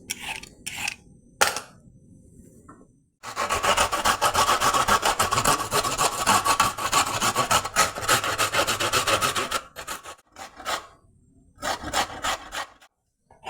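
A carrot being cut into small pieces in a home kitchen gives a steady, close rasping scrape that runs for about six seconds, with a few brief scrapes before and after and no speech.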